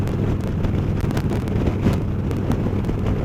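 Strong wind buffeting the microphone on a moving motorbike, a loud continuous low roar with gusty rumble throughout.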